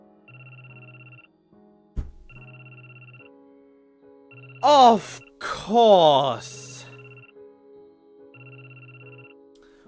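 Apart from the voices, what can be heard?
cell phone ringing in video game Sharin no Kuni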